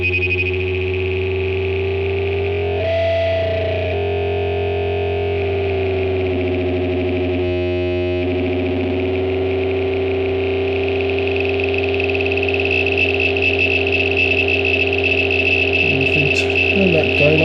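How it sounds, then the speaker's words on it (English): A Serge Resonant Equalizer synth module drones steadily with a buzzy, distorted timbre while its resonant bands are moved, making the pitch and harmonics shift and sweep over a sustained tone. "You can hear how that frequency shifts when we move some of these bands around."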